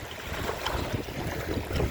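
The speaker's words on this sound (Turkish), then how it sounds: "Dalgaların sesi çok güzel." Sea waves wash and surge against a boat in a cartoon seaside scene, a soft, continuous rushing with wind noise and no speech.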